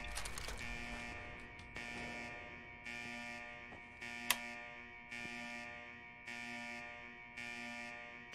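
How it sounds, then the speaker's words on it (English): Electronic alarm in Fallout 4, a steady buzzing tone pulsing on and off in regular bursts about once a second, with a single sharp click partway through and no voices. "Shut that damn alarm off."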